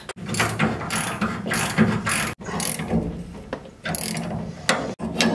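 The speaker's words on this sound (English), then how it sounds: "I'm gonna go ahead and tighten this stuff down real quick" A ratchet wrench tightens suspension nuts on a Squarebody C30 truck during a 3/4 drop kit install, giving rapid, close, repeated pawl clicking in several bursts separated by brief pauses.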